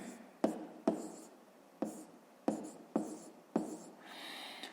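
A pen writes a decimal number by hand, with six sharp taps on paper spaced about half a second apart, each followed by a short scratch, heard up close in a quiet room.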